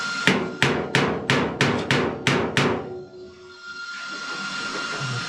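Steady hammer blows on the sheet-metal roof of a 1948 Ford truck under rust repair, about nine sharp ringing strikes in a quick even rhythm, close and loud, then a quieter hiss.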